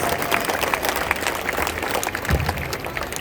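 A large crowd at a Perth freedom rally in October 2021 applauds a singer, continuous outdoor clapping and cheering spread wide across the space, moderately loud with scattered louder claps.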